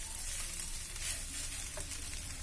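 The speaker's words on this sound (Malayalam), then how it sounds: "ഇത് നന്നായിട്ടൊന്ന് ഇളക്കി" Boiled potatoes fry and get stirred in an oil-filled pan as an evening snack, a faint, even crackling sizzle with soft stirring, heard alone without talk.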